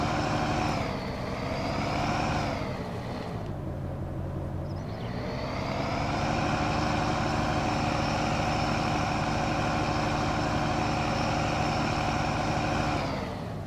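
A loud video-game truck engine running with its muffler removed, a raw, continuous droning roar that dips and surges as the revs change early on, then holds a steady, heavy idle-like rumble throughout.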